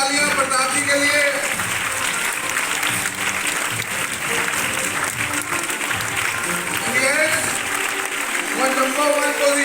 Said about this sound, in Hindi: एक बार जोरदार तालियां प्रताप जी के लिए।